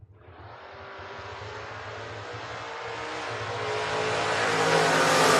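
Drag racing cars launching at a 2022 event, including a Mustang from Cherry Hill, New Jersey, with engine roar building steadily from a sharp start into a loud, rising, sustained acceleration.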